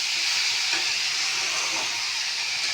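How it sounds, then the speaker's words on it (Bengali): A tomato and green chilli masala fries in a pan with a loud, dense, continuous sizzle and hiss that holds steady and close throughout, with no voices. "টমেটো, কাঁচা লঙ্কা এটা বেটে মশলাটা কষাচ্ছি"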